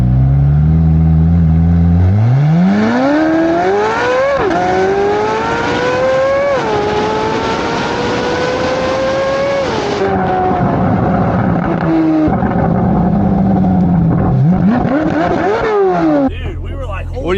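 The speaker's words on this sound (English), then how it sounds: "we're gonna go race him around the Freedom Factory" A Corvette C8 Z06 and a Porsche Turbo S race around a track with a loud, close engine roar that climbs through repeated high-revving pulls, broken by sharp gear shifts. The sound drops off and builds again toward the end.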